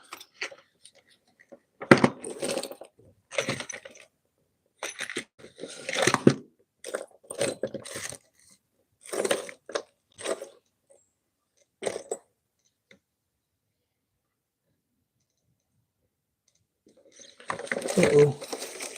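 Tools and small metal bits rattling and clattering in short bursts as someone rummages for a burnishing bit, with long quiet gaps between, close up.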